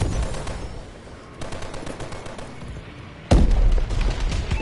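Gunfire crackles steadily in Call of Duty: Advanced Warfare before a bombing run lands with a sudden loud explosive burst that carries on as dense rattling blasts.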